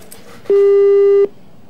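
A telephone line drops to a disconnect tone after a caller hangs up during a live TV news phone-in: one loud, steady electronic beep lasting under a second, alone and clean.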